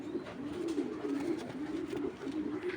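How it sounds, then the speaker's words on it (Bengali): Giribaz pigeon, a Bangladeshi high-flying breed, cooing steadily in low repeated throaty rolls, close and moderately loud with no talk over it. "অল টাইম 24 ঘন্টা ডাকবে কবুতরটা"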